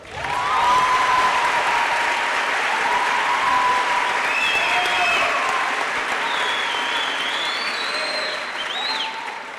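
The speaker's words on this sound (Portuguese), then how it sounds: "uma salva de palmas para Marcelo Tasso." Loud, sustained applause from a seated audience welcomes a guest to a public talk event in Araxá, the clapping full and continuous for several seconds and easing slightly at the end, with no voices over it.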